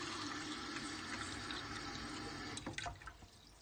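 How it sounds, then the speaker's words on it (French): Tap water pours steadily into a drinking glass, a continuous bright rushing stream that thins into splashes and drips near the end as the flow stops; close and alone, with no talk. "on va mettre de l'eau du robinet."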